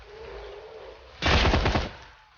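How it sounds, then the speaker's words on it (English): A single loud, close burst of full-auto gunfire in Shadowrun: Hong Kong rattles rapidly for about half a second over a quiet background hum, with no talking. "And full auto on the sniper."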